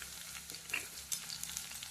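Onion pieces and curry leaves sizzle in hot oil for a tempering, a soft continuous frying hiss with occasional pops and faint stirring, quiet and close with no talk.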